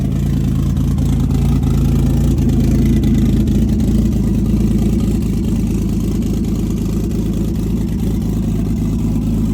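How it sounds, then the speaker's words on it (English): Cold start of a 1300 wheel horsepower Infiniti Q50 with a twin-turbo 3.7-litre V6 and two 4-inch turbo dumps: a loud, steady, deep rumbling idle with a low throbbing pulse that runs unbroken throughout, with no talking over it. "In case you ever wonder what a 1300 wheel horsepower 370D cold start sounds like."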